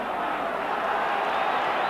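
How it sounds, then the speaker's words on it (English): Steady crowd of about 40,000 football fans at Ibrox stadium during a 1989 Rangers v Dunfermline match, a broad continuous roar heard at a distance with no distinct peaks. "Really excellent crowd in Ibrox today"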